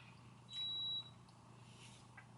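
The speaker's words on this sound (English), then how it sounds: "I don't know what that beeping is." A single high-pitched electronic beep sounds for about half a second against quiet room tone.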